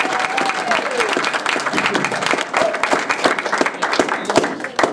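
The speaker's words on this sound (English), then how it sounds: "Can we give them a clap?" Wedding guests applaud together in a steady burst of clapping from a roomful of people, close and fairly loud, with faint voices mixed in.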